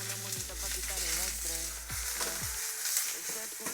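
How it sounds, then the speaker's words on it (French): Mushrooms frying in a pan give a steady broadband sizzle that runs through the whole stretch, with low kitchen hum and a few tonal clinks and sweeps riding over it. "Je vais maintenant m'attaquer à la cuisson des champignons."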